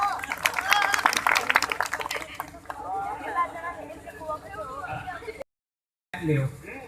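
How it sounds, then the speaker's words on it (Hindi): Audience clapping at an Awadhi comic poetry performance, a burst of dense applause up front that thins and fades within a few seconds, followed by a brief gap and murmuring voices. "आप लोग जोरदार तालियां बजा दीजिए"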